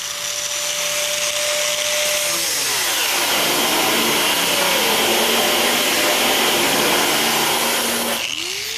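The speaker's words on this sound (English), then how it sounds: "cutting diamond plate when all of a sudden, the grinder starts to smoke" An angle grinder cuts through diamond plate in a front room, a loud steady whining roar with shifting pitch that runs nearly the whole time before easing off near the end.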